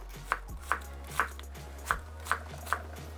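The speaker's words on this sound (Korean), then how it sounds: "양파는 약간 두껍게 썰어야 되거든요" Six evenly spaced knife chops ring out as an onion is cut into thick slices on a board, close and crisp over a low background hum.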